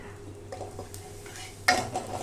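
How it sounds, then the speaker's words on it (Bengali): Turmeric, cumin, coriander and red chili powder sautéed in oil in a pan, with a low sizzle under scattered spatula scrapes and a sharp metallic clink near the end, close and with no talking. "ভালো করে কষিয়ে দেব।"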